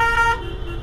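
A car horn toots in busy Indian street traffic, a near, loud steady honk that cuts off partway as engine and road rumble continue.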